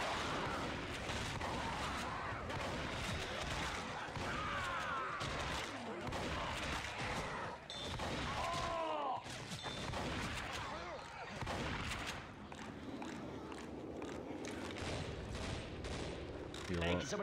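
Dense, continuous gunfire and booming frag-round blasts from a Left 4 Dead 2 campaign firefight, loud throughout with intermittent voices underneath.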